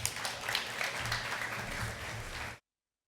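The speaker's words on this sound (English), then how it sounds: "let's give them another round of applause" Steady applause from a crowd fills the room for a few seconds, a dense patter of clapping that stops suddenly.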